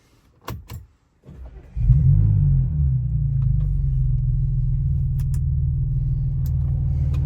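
Clicks and a short starter crank bring an Audi A5/S5 to life, and the engine then settles into a loud, steady idle rumble that holds for several seconds, with a couple of faint clicks and no voices.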